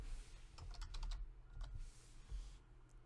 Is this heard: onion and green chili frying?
no